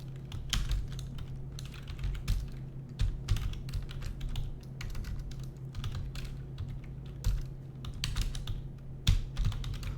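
Rapid, irregular clicking of a computer keyboard as code is typed, close and clear with short bursts and pauses, no voices.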